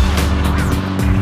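A turbocharged car driving at roughly 100 miles an hour, heard from inside as a loud, steady engine roar with low rumble and broadband wind and road noise, continuous with no break.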